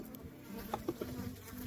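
Honeybees drone faintly at a mid-winter hive during an inspection, a low, steady buzz with a few brief taps and knocks from handling the frames.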